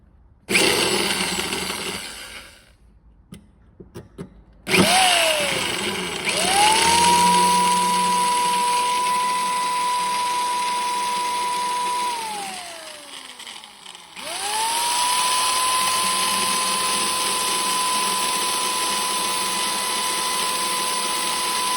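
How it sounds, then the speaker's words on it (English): Power drill boring a small hole into a broken bolt in a lawn mower crankshaft, with a couple of short bursts and then two long steady whines that spin up, hold and wind down. "So let's drill a little hole"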